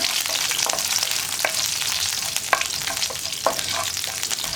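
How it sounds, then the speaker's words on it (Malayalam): A tempering for moru curry sizzles loudly in a pan while a spoon stirs through it, giving a steady hiss broken by repeated close scraping clacks. "ഇതെല്ലാം ചേർത്തൊന്ന് ഇളക്കി മിക്സ് ചെയ്യുക."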